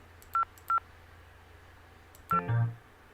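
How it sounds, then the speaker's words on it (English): Keypad tones from a phone in the video game Parallel Lab as a passcode is entered: two separate beeps, then a third tone followed by a short buzzing chime, all clear against a faint background hum. "I have to enter a passcode to get into the phone to make a phone call."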